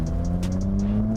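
V6 car fitted with an H-pipe and resonators idles with a steady, fairly quiet exhaust drone and a brief rev blip near the middle, heard up close with no talking.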